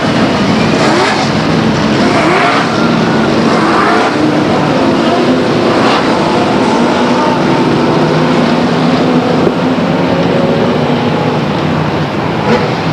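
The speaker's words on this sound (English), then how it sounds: "There goes the pace car up ahead now." Race cars rumble at Stockton 99 Speedway in 1999 as they follow the pace car around the oval before the green flag, a loud, continuous engine drone with gentle swells, heard alone without talk.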